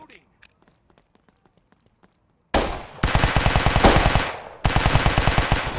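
Rapid automatic AK rifle fire in the Hazmob FPS shooter game, with a few faint clicks and taps before loud sustained bursts that break off briefly and then resume.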